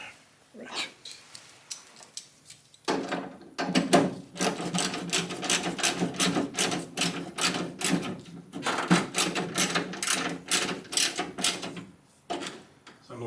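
Ratchet clicking while driving bolts on the door of a 1977 Camaro Z28 during window installation, a long run of quick, close, fairly loud ratcheting clicks with brief pauses between bursts.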